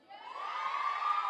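A crowd cheers and whoops for a film cast and crew at a Maze Runner: The Scorch Trials event, the broad roar swelling quickly and holding loud and steady with no talk over it.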